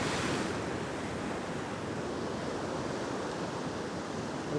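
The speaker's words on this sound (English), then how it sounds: "Here comes another wave, bummer." Ocean waves surge and break over a rocky reef while someone rock fishes, a loud, continuous roaring wash with wind buffeting the microphone throughout.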